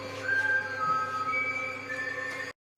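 Thin high whistles sound in short bursts over a rough, noisy background, stopping abruptly near the end.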